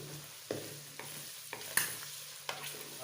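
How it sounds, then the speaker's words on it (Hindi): Chicken pieces fry in hot oil in a pot, a steady low sizzle broken by sharp scrapes and knocks of a spoon stirring every half second or so, close by with no talk. "इसी तेल के अंदर इनको अच्छी तरह फ्राई करते हैं।"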